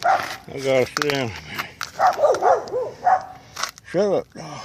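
A dog barks in several sharp, close bursts with short yips and whimpers in between, loud against a quiet indoor room.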